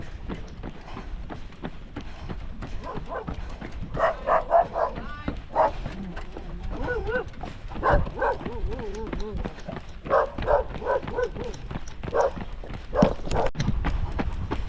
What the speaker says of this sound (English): Lots of dogs.